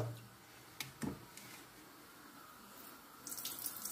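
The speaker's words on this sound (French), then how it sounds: "On lave le couscous." Barley couscous rinsed under a cold running tap in a sink, with a soft steady water rush, a few brief clatters and splashes near the start and a livelier spray toward the end.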